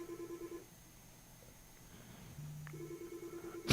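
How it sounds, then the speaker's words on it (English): A telephone rings in a radio studio: a faint electronic two-tone ring sounds, pauses, then starts again, quiet and steady under low room noise. "Yeah, the phone's ringing."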